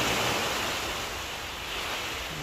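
Sea waves wash steadily beneath a walking bridge over the sea, a continuous broad rushing surf with gentle swells and light wind, no voices.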